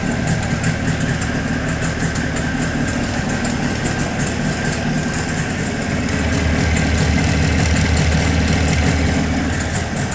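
Jawa 638 motorcycle engine idling steadily with its headlight on high beam, a close, continuous low mechanical rumble that holds even throughout and swells slightly louder in the last few seconds.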